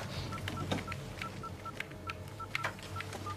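A telephone is dialed, producing about a dozen short, evenly spaced keypad tones over faint room background, with no one speaking.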